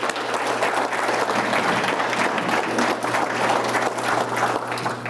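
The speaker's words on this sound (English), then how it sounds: "Let's give them a round of applause, please." A school district auditorium audience applauds a student choir, a dense and steady wash of many hands clapping at moderate distance for several seconds without letting up.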